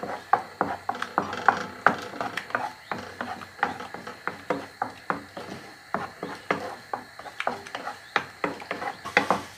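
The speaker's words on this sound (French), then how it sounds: "on va cuire nos œufs comme des œufs brouillés. En mélangeant constamment." Three salted eggs are stirred constantly in a pan while scrambling for a Basque piperade, giving regular close scraping strokes about twice a second with a faint sizzle underneath.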